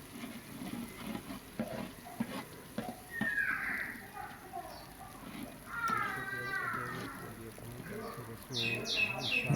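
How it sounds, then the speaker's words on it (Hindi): Ginger garlic paste fries in a pot with a steady sizzle and scraping stirs, moderately close, while a voice talks over it and birds chirp faintly in the background. "इसको भून लेंगे अच्छी तरह"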